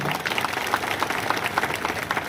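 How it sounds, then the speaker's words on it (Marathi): A large crowd claps at an outdoor statue unveiling ceremony in Kopargaon, dense, continuous applause with individual hand claps standing out up close. "एकदा जोरदार आपण टाळ्या वाजवल्या पाहिजे"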